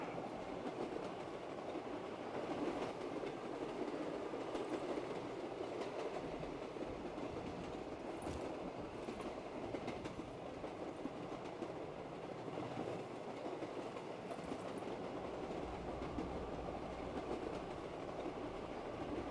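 A tram rolls along rails in a video game, a continuous low rumbling with faint rhythmic clacking and occasional higher squeals, steady and fairly quiet throughout with no talk.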